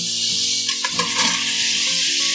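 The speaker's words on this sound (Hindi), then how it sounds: "अभी देखिए हमारा यहाँ पे अदरक लहसुन अच्छी तरह से भुन गया है।" Chopped ginger and garlic frying in a pan for kofta korma, a steady close sizzle with brief stirring scrapes, no voices.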